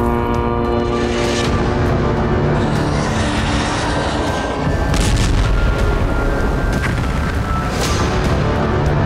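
Missile launch with thunderous rumble from an underwater nuclear test in the Bay of Bengal, a continuous loud roaring blast that holds steady for several seconds with crackling bursts on top.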